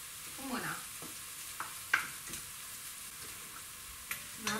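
A spoon scrapes and swirls through a pot of Sibiu-style ciorba, giving faint, intermittent stirring clicks over a steady background hiss with no talking.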